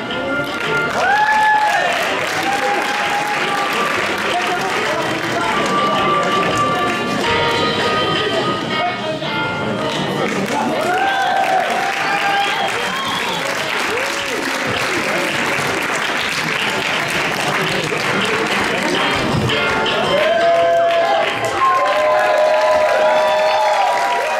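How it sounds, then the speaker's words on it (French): Audience at an improv theater festival show applauds at length, a loud sustained wash of clapping with some cheering, while voices talk over it throughout. "Ouais, on l'applaudit."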